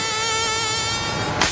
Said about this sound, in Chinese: 蚊子很多哎